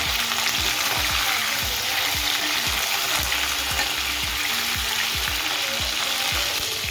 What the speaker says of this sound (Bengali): আমি বসিয়ে দিয়েছি ফুলকপি আলু ভাজাটা